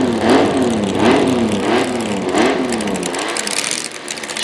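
A drag racing dragster engine runs loudly up close at a drag strip, its exhaust giving a continuous harsh roar with rhythmic surges of revving.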